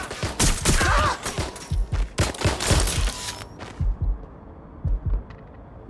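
Bursts of gunfire from the video game Watch Dogs Legion, rapid volleys of shots in clusters, loud and close, then sparser scattered shots trailing off.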